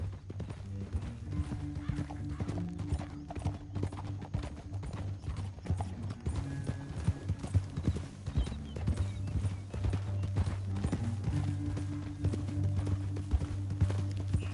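Horse hooves clip-clop at a steady walking rhythm in Red Dead Redemption 2, continuous and fairly loud under a low droning musical score with faint mechanical clicks.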